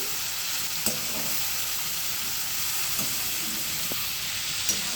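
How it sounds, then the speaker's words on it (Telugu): Spice paste of cloves, cinnamon, dried chilli and rock salt frying in a pan, a steady broad hiss with a few faint ticks and stirring clicks, no talking. "దీన్ని ఇలా కాసేపు ఫ్రై చేసుకోండి"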